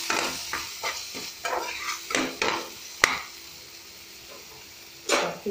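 Onions are stirred through hot oil in a pan, giving irregular bursts of scraping and clattering strokes over a light sizzle, close and fairly loud with quiet gaps between stirs.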